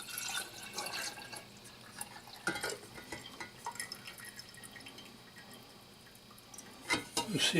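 Rinsed tumbled rocks drip dry in a workshop setting: a scatter of irregular small drips and splashes, with a few louder knocks, over a steady low background hum.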